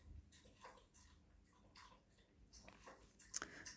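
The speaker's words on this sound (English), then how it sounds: "Oh, you can hear Billy drink some water." A dog named Billy lapping water, faint wet slurping and licking in a quiet room, soft repeated laps in an irregular rhythm with no talk.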